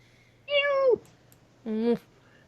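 Two distinct meows from a Siamese cat in the game Hustle Cat, each about half a second long and falling in pitch, separated by a short quiet gap over a faint low hum.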